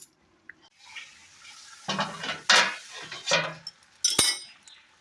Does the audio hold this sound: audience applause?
no